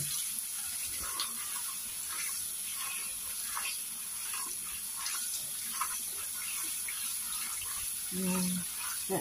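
Long beans being washed under a running kitchen tap, a steady faint hiss of flowing water with soft splashing and handling noises, ending with a short low thud.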